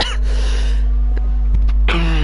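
A commentator's cough during an esports sim-racing broadcast: a short harsh burst near the start and another rougher one near the end, close and loud over a steady low hum.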